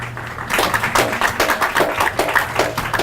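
A town hall audience claps in a steady round of applause, individual hand claps distinct and rhythmic, fairly close and lasting a few seconds after a quieter start.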